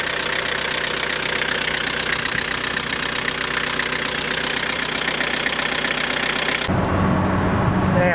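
A Nissan TD27 diesel engine runs after a water pump replacement, a steady, loud, clattering idle close by; near the end the sound shifts to a deeper, rougher rumble.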